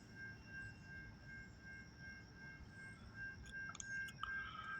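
A long-haul CN freight train rolling past as a steady low rumble with a sustained high wheel squeal, fairly distant and even throughout.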